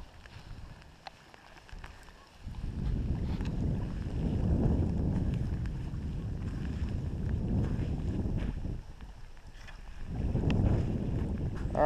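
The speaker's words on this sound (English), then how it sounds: "The wind's blowing so hard it made all this foam." Strong wind blows across a lake shore, roaring in long continuous gusts that buffet the microphone, easing briefly between surges and building again near the end.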